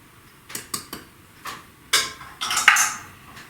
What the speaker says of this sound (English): Next, 1/4 of a cup of light brown sugar. Let me put that in.